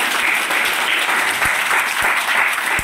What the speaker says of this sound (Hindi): प्रभु का लिए एक बार ताली बजा देगा हम लोग